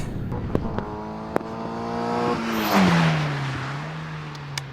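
A Caterham car engine hums at near-steady revs, then swells in a rising, blipping surge as the driver heel-and-toes under braking, before settling back to a lower drone, with a few sharp clicks and knocks close by.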